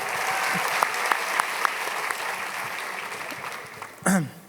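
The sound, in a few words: audience applause at graduation ceremony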